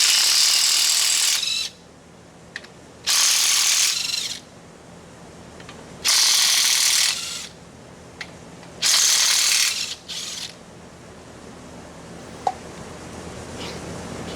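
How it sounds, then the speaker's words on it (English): A ratchet removes the carrier bolts from a Ford 8.8 rear axle in a garage, heard as four loud, steady bursts of rapid clicking separated by short pauses, with faint taps and clinks in between. "So we're ready to take these bolts out and get the carrier out."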